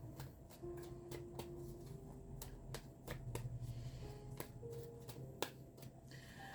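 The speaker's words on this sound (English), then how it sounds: "So I'll make sure I shuffle these cards real good this time around." Tarot cards are shuffled quietly, with a series of crisp, irregular snaps and flicks spread across the passage over a soft, steady room hum.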